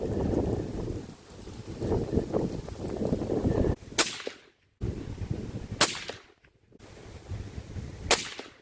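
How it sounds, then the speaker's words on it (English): Three sharp rifle shots from a sniper rifle build fired at a target outdoors, spaced about two seconds apart, each a loud crack followed by a quick drop to near silence, over steady wind noise on the microphone. "I'm going to go ahead and fire 5 more shots and see where we're at."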